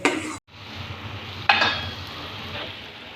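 Keema macaroni sauce with ketchup being stir-fried and sautéed in a pan, giving a soft sizzle with a couple of brief spoon-scraping stirs. No one speaks.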